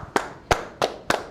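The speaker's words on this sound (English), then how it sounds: "Round of applause." Four sharp, evenly spaced claps ring out in quick succession during a live talk-show event, close and crisp, a small round of applause rather than a full crowd.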